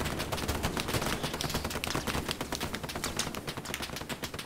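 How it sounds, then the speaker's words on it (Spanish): Gunfire in the video game Hell Let Loose, set in a battle at the Remagen bridge, crackles as rapid, continuous bursts of shots, fairly faint and distant, with no talk. "Nos están pasando los tiros muy cerca."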